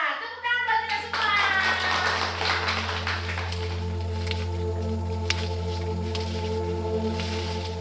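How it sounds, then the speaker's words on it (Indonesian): Group applause breaks out after a short spoken encouragement at a gathering of Indonesian corn farmers, with many hands clapping in a dense, steady burst over a constant low hum throughout. "Tepuk tangan buat kita semua."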